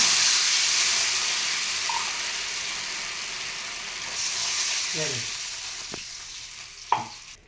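A sizzling tempering for rice flour upma crackles steadily in a pan, then water goes in and the hiss swells and shifts, with a few short clinks and scrapes near the end.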